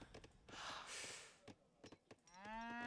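A cow moos in a strategy video game, a single drawn-out low call rising at the end, preceded by soft clicks and a brief airy whoosh, fairly clear against a quiet background.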